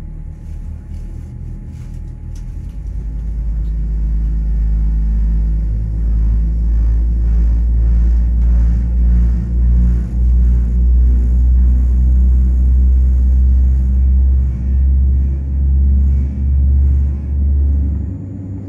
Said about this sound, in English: enjoy this incredible view and sound of these GE-NX engines, starting up and taking off from runway 23